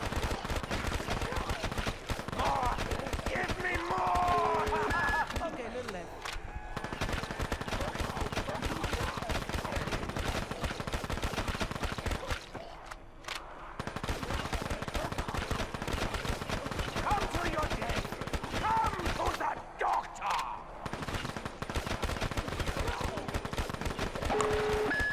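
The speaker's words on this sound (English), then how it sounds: "if you can manage to round up a crowd and then just blast them in the face with the Pharaoh, it does some damage" Repeated blasts from the Pharaoh gun tear through a video game firefight, with dense gunfire and explosive crackle filling most of the stretch before brief lulls, and a voice talking underneath.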